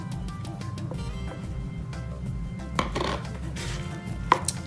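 A whisk or spoon clinks and scrapes in a bowl while eggs and half and half are stirred, quick rhythmic taps with a couple of sharper knocks, close and fairly quiet.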